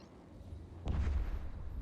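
Ship weapons fire in the space game EVE Echoes, a single deep booming blast that rises from a low rumble and leaves a sustained heavy roar trailing behind it.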